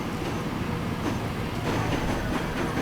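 A long freight train runs along the line in the Transport Fever rail-management game, with a steady, dense rumble of rolling wagons and faint wheel clatter throughout and no voices over it.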